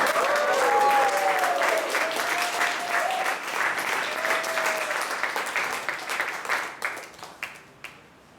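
An audience applauds to welcome the next speaker, president Cherian Thomas, at a speaking event; loud, dense clapping fills the room, then thins into scattered claps as it dies away.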